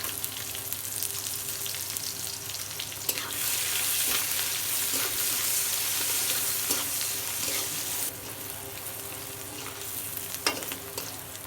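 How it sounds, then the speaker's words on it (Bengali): Cinnamon, cardamom, cloves, bay leaves, whole garlic, dried chillies and onion frying in hot oil in a wok: a loud, continuous sizzle that swells as they are stirred, with occasional scraping clinks. "কড়াইতে তেল দিয়ে দেব ডালচিনি এলাচ লবঙ্গ তেজপাতা গোটা রসুন শুকনো মরিচ পেঁয়াজ"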